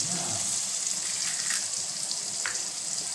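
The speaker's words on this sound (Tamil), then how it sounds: "நான் வந்து 2 முட்டை வந்து சேர்த்துக்கிறேன்." Two eggs sizzle in a frying pan for an egg-fried macaroni dish, a steady loud hiss of hot oil up close, continuous throughout with faint crackles and no talking.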